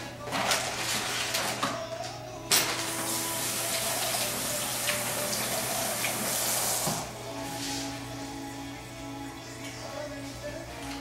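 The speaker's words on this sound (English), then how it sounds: "I'm gonna wash my hands." Water runs steadily from a kitchen tap during hand washing, a continuous splashing hiss with a brief louder burst midway, heard alone without talk.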